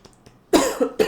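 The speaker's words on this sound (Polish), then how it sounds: "To jeszcze kaszel?" A few faint breaths, then a sharp, close cough followed by two quicker coughs in a short burst.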